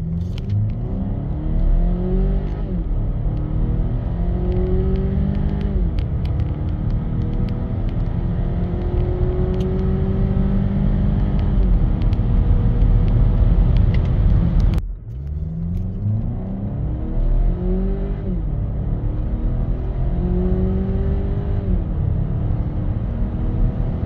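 A facelifted Volvo XC90 B5 pulls hard from inside the cabin, its engine note climbing steadily through a long gear, then a brief dip at a shift before rising again in a smooth, loud surge.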